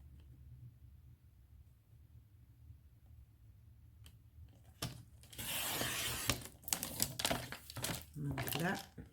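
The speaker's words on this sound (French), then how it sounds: "Je vais couper la bande aussi, ce sera plus facile" Paper strip for a Christmas snowball scrapbook photo album being cut, with a few faint crinkles at first, then a close burst of crisp scissor snips and rustling paper in irregular clusters.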